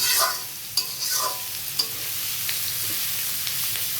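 Vegetables with turmeric and salt fry in a dry pan with no water, the steady sizzle broken by several sharp spatula scrapes and stirs.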